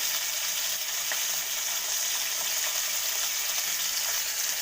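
Green chilli, ginger and garlic with coriander and mint frying in a pan for rice bath, a soft continuous sizzle with faint stirring clicks, no voices.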